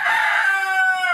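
A rooster crows once near a backyard pen that holds rabbits, chickens and mini ponies, a loud drawn-out call with no voices over it.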